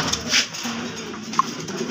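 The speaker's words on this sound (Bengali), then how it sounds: "এটা গিরিবাস কবুতর, খুবই সুন্দর" A Giribaz pigeon at a fancy pigeon farm gives a soft, low coo, close and brief, with a faint chirp-like note and light background rustle.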